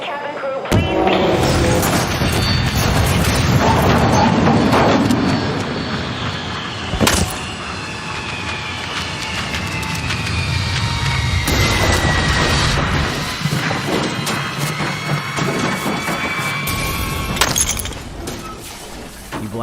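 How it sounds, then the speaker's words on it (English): A plane crashing down in the video game The Forest: a loud, sustained roaring rumble with sharp crashing impacts and a whining tone that slides downward, continuous throughout, with a voice briefly heard beneath it. "suddenly there's a loud noise and the plane begins crashing down to Earth"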